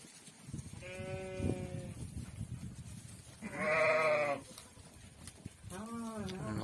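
Young yearling sheep bleat on a rain-soaked grazing pasture: three separate loud, wavering calls, the middle one longest and strongest, with light background noise between them and someone talking.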